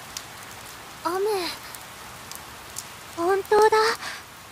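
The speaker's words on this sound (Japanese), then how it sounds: "これは、いわゆる天気雨ね。" Sudden sun shower in a voiced anime-style game scene, a soft, steady hiss of falling rain in the background while a couple of voices speak briefly over it.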